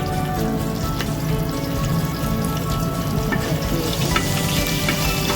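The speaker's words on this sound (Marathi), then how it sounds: "थोडासा परतून घ्यायचं त्याच्यानंतर मिरची" Chili and curry leaves sauté in a pan of oil while jackfruit vegetable is being made, a dense continuous crackling sizzle, loud and close throughout with no voices.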